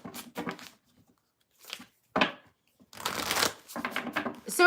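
Tarot cards are shuffled by hand in short bursts of riffling and flicking, with brief pauses, then a longer continuous riffle near the end, close and fairly quiet.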